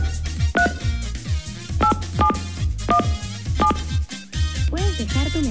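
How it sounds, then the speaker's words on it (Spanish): Mobile phone number being dialed on a keypad, a quick series of short two-tone beeps under a person's talking and background music on a game show. "Vamos a marcar entonces el otro teléfono celular"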